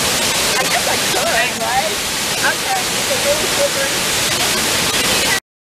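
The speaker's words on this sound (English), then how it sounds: "Waterfall." A 7-meter waterfall in the Bali jungle gives a steady, loud rush of falling water that fills the scene. People talk briefly over the constant roar.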